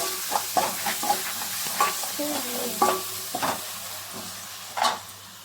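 Tomato, with a pinch of turmeric, fries in a pan with a continuous soft sizzle, broken by repeated close clinks and scrapes of a spoon stirring at an uneven rhythm.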